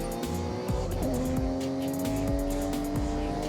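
Noisy car engine in the Forza Horizon 6 racing game, revving hard and loud with repeated gear-shift drops and tire squeal as the car slides, continuous with no talking.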